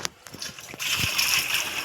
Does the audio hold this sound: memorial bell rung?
no